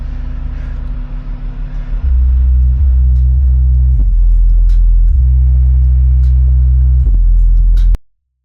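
Heavy bass music pounding from an upgraded subwoofer inside a Nissan Z, loud and boomy with a steady deep thump that shifts in level across the passage, then cuts off abruptly at the end.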